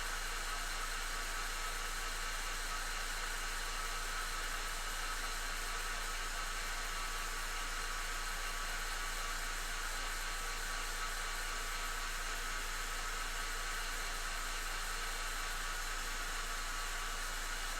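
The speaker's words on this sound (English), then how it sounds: "Actually, I'm going to hit this with the dryer first." A hair dryer drying paint on a Yndrasta, the Celestial Spear miniature runs as a steady, even broadband whoosh for the whole stretch, constant and unbroken, with no talking over it.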